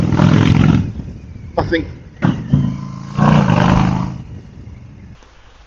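A Royal Enfield 350 J series motorcycle fitted with a belt drive revs close by, rising and falling in loud throaty bursts before settling to a lower idle, while someone talks over it.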